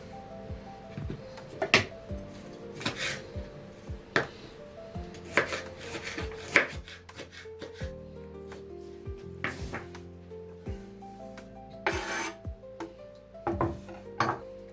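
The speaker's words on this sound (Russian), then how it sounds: "Сюда же я нарезаю сладкий перчик." A knife chops sweet pepper on a board in irregular sharp knocks, some quick bursts and some spaced out, close and fairly loud, with background music underneath.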